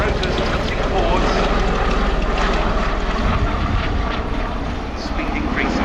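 A tiltrotor aircraft at an airshow drones loudly overhead with a broad, steady engine and rotor roar as its rotors tilt forward into aircraft mode, easing slightly near the end while a voice talks over it.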